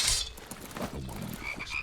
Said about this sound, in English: Did I put my frogs in? I hope so. Yeah, I did. Well, I got the frogs.